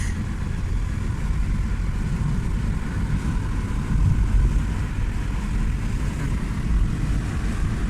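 A car picking up speed while driving downhill on a mountain road near İbradı in Antalya, heard from inside as a steady, loud rumble of engine, tyres and wind with no talking.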